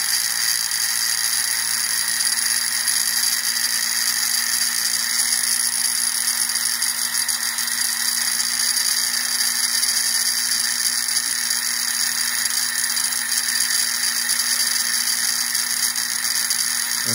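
A homemade self-balancing CMG gyroscope flywheel spins at high RPM, giving a continuous shrill whine with a steady hum beneath, constant and fairly loud for the whole stretch.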